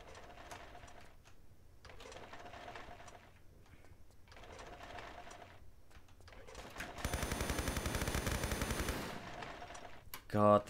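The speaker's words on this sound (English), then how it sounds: "God, that MP5 sounds amazing." MP5 submachine gun fire in the video game Tomb Raider III: several short stretches of rapid automatic fire with quieter game sounds between, ending in a long sustained burst and a final loud blast.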